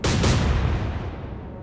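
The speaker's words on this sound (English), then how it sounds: "Secondary explosion." A ship's secondary explosion in the naval game Atlantic Fleet bursts loudly with a sharp double boom, then rolls into a long, fading rumble.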